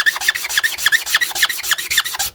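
Paint being scrubbed off the top of a wooden fence post, a close, loud, rapid back-and-forth rasping of about ten even strokes, with no talk.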